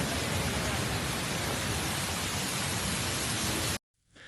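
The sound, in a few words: heavy rain at flooded Barcelona El Prat airport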